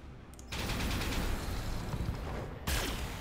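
Rapid, dense gunfire rattles continuously in a mech combat video game, with a sharp fresh burst near the end.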